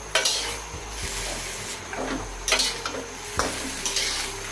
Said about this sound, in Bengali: করলাটা একটু নেড়ে দিব।